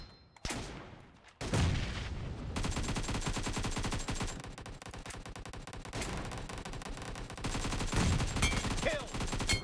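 Rapid automatic gunfire in the mobile shooter BGMI during team deathmatch play, sustained bursts of loud shots with brief pauses and a thudding impact near the start.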